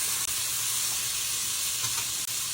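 Butter and garlic sizzle and fry in a pan as they brown, a steady, close hiss that holds through the whole stretch without voices.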